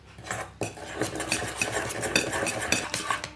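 Spoon stirring a wheat flour and ghee mixture in a pot, with steady scraping and clinking of metal against the vessel in an irregular rhythm, close and moderately loud, no talking.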